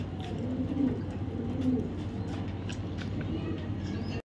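Pigeons cooing, a couple of soft low coos over steady background hum.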